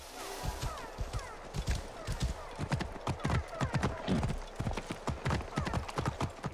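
A horse gallops along a beach in the video game Assassin's Creed Origins, its rapid hoofbeats clopping steadily and close throughout, with a brief whinny and a voice talking faintly underneath.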